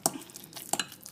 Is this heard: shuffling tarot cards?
no